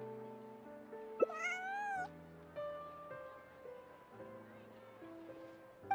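A cat meows in Genshin Impact, giving one short rising meow and then a longer wavering one over a soft, steady musical background.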